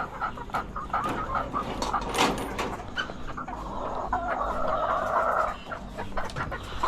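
Several chickens cluck and murmur nearby, overlapping calls with a louder squawk, against a busy farmyard background.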